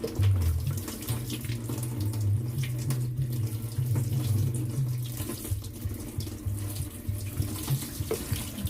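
Drinking water runs steadily from a tap to rinse pickled fish at a sink, a close, continuous splashing flow that lasts throughout with no talking.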